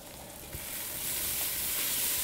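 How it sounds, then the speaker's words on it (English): Soup ingredients sizzle and fry in a pot on a stove, a steady close hiss of browning food that holds constant throughout, with no talking over it. "These sizzle sounds coming from the stove."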